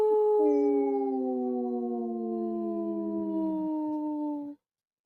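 Wolves howl in long, sustained, gently falling tones, two or more overlapping voices forming a loud, close chorus that ends abruptly into silence.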